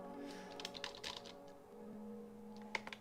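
Typing on a computer keyboard: a fast, faint patter of key clicks with a few louder taps near the end, over a low steady room hum.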